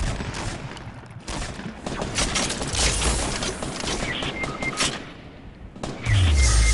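Rapid gunfire in the Fortnite video game, sustained bursts of shots and explosions that are loud and dense throughout, with a heavy low thump near the end.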